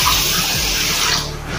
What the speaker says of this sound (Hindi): अच्छे से इसको अभी हम धोएंगे अपने चावल को।